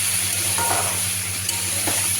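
Boiled kohlrabi fries in a wok with turmeric and salt, giving a steady sizzle with a few louder bursts as it is stirred, close up and without talk.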